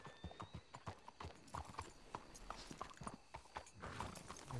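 Horse hooves clip-clopping at a walk in Red Dead Redemption 2 as riders approach a spot to hitch up, steady and fairly near, with a brief whinny and faint background ambience.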